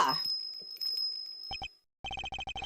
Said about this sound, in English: What's that tinkling sound?